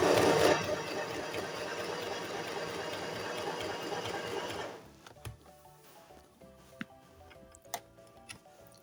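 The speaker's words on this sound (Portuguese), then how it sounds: "Então, eu vou costurar pra vocês verem." A domestic sewing machine stitches with loose thread tension. It runs in a loud, fast, steady whir for about five seconds, then stops, leaving scattered faint ticks and clicks.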